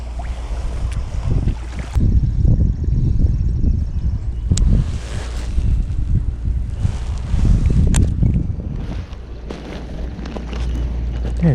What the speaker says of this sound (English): It's just so in the open here, and there's so much wind.